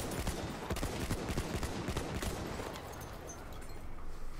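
Rapid gunfire in Battlefield, dense bursts of automatic shots crackling in quick succession, loud and close, easing off toward the end.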